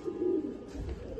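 A pet pigeon kept for sale gives a single soft, brief coo, faint and close, with no talking.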